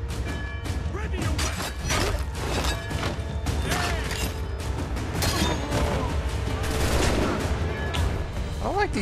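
Enemy gunners open fire in Assassin's Creed III, with repeated sharp musket shots and clattering impacts spread across the scene, loud and continuous, while a voice talks over the action.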